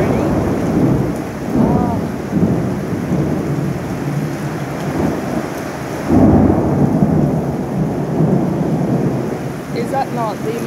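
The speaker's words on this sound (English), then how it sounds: "Oh, we're gonna get a good thunder in a second." Steady rain pours down while deep thunder rumbles and rolls throughout, swelling louder partway through during a storm in Kambalda; a person briefly exclaims.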